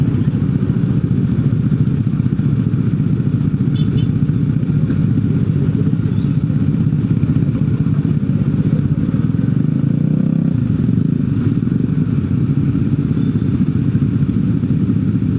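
Motorcycle engines drone loudly and steadily while riding through the city of Medan, Indonesia, at night, a constant close rumble with slight rises in revving and occasional clatter, with no voices.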